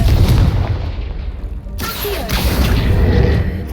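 A Confringo explosion spell from the game Hogwarts Legacy, set in a forest, sounds as a loud, dense booming blast with crackling debris and rumbling low end that swells again midway and keeps roaring throughout.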